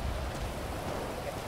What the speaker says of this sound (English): We're still going to be in the rain.